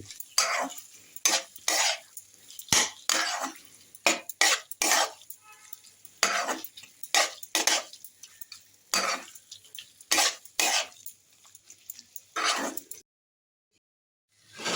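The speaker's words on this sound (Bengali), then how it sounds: "দেখুন চিকেনটাকে এবারে কষা হচ্ছে" Chicken being sautéed and stirred in a pan, with repeated scraping and clinking strokes of a utensil against metal in irregular bursts, close and fairly loud, with a brief quiet pause near the end.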